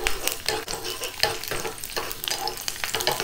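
Garlic cloves fry in oil for a bottle gourd milk kootu, giving a dense, close crackling sizzle with frequent stirring scrapes and pops that rise and fall throughout.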